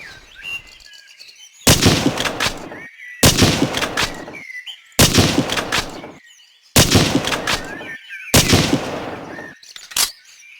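Fixed machine gun in the Hidden & Dangerous video game rattles off five loud, sustained bursts, each roughly a second long, separated by short pauses, with a brief final burst at the end.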